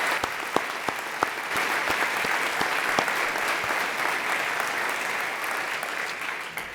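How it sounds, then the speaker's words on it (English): Sustained applause from a university audience at a State of the University awards event honoring an award recipient, a steady wash of many hands with a few distinct near claps standing out, continuous throughout. "please join me in a round of applause for Priscilla Cobb"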